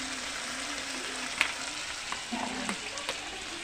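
An egg fries in a pan with a constant loud sizzle and crackle, with a few sharp pops and spatters, cooked alongside a spicy eggplant and anchovy sambal in a home kitchen.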